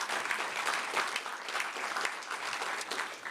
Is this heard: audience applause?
yes